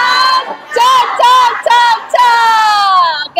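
A class of grade 7 students chants a rhythmic class cheer together in a classroom, loud, close voices shouting short bursts of words in unison with brief pauses between phrases.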